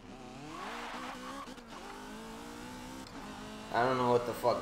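A BMW E30 in Forza Motorsport 7 roars and revs hard during a roll race, the engine note climbing through gears with a surging burst near the end, with someone talking excitedly over it.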